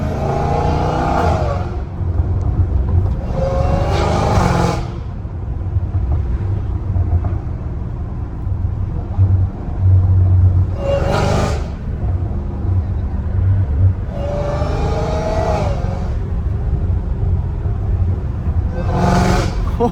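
A Dodge Challenger Hellcat Redeye on the street revs hard in loud, supercharged bursts while being driven, with several sharp full-throttle pulls separated by a steady rumbling cruise.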